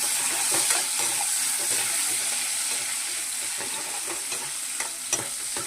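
Eggplant, mango pieces and onions fry in a pan with a loud, continuous sizzle, while a spoon stirring against the pan adds scattered scraping clicks throughout.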